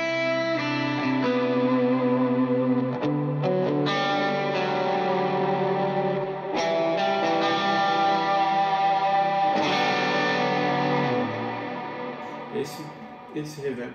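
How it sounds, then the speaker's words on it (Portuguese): Electric guitar played through a pedalboard with a long, deep reverb, sustained chords ringing and washing into each other continuously, then trailing off toward the end with a few faint picked notes. "E eu tenho um reverb mais longo aqui, caso eu queira fazer uma ambiência bem mais profunda"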